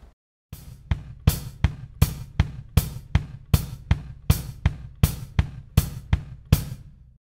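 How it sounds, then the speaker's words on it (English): Slow double bass drum pattern on a drum kit, with the left foot filling the upbeat eighth notes between hi-hat and right-foot bass drum quarter notes: a dense, even run of about sixteen close, punchy thumps. "So added the left foot then on the upbeat eighth note will sound like this."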